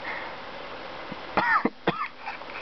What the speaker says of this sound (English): And I have a cough.